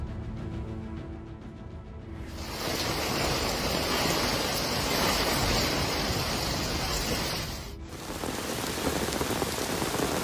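Heavy rain pours down during flash flooding in Sichuan province, a dense, steady roar of drops that swells louder partway through and briefly dips before resuming, with no voices.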